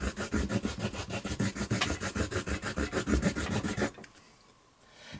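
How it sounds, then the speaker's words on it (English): A carving tool stroked back and forth on a leather slip strop dressed with yellow polishing compound, giving a steady run of about two dozen quick, close rasping rubs that stop abruptly, leaving quiet room tone. "It comes with this yellow compound that you rub on the back leather."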